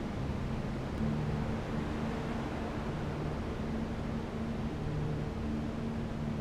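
Static whooshing noise in the video game FLOW, a steady hollow hiss with a faint low hum underneath, constant and unbroken with no voices.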